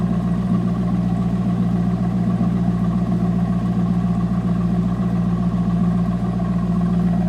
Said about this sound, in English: And you can hear this has a nice deep throaty exhaust note.